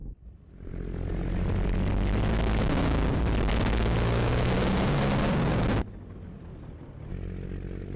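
A modded aircraft engine in a flight video game builds to a loud, roaring drone that holds for several seconds, then cuts abruptly to a quieter, steady engine hum.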